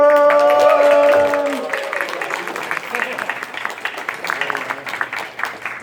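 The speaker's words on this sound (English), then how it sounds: "Round of applause, ladies and gentlemen!" Audience applause and crowd noise at a convention game show, rising as a sustained wash of clapping after a voice ends and continuing for several seconds.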